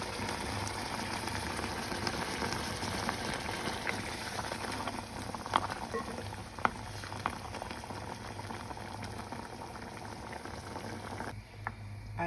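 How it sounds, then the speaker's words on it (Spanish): A stew of tomato water and osso buco boils in a pot, a steady low bubbling simmer with small pops and occasional louder bursts, close and continuous. "Ahora tapo y dejo hervir un buen tiempo"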